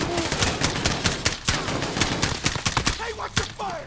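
Gunfire in the Call of Duty Modern Warfare campaign, a dense fusillade of sharp rapid shots, some in quick machine-gun bursts, loud and continuous throughout.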